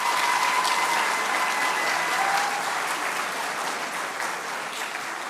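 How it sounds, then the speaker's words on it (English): An audience at a school awards ceremony gives a sustained round of applause, dense clapping from a full room that stays loud throughout and tapers slightly toward the end. "Let's give them a round of applause."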